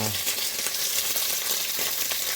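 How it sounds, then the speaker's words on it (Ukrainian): Steady, dense sizzling of fresh pork frying in a hot pan, a continuous crackling hiss close up with no talking. "Люблю я це, коли воно шкварчить, дивіться."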